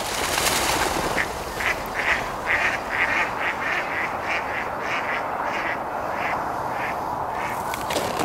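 Mallard ducks quacking in a run of repeated calls over steady outdoor background noise, moderately distant and fairly faint.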